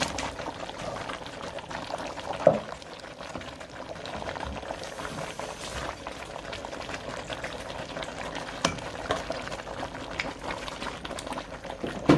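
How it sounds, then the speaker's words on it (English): Okra goes into a pot of okro soup cooking on the stove, with steady bubbling and liquid sounds, a few small splashes and clinks standing out against the simmer. "You can see now I'm adding my okra inside."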